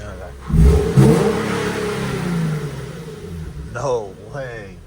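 A brand new rear-wheel-drive car with traction control switched off revs its engine, rising to a loud near roar and then settling. Two quicker revs follow, each climbing in pitch, and excited voices are heard in the background.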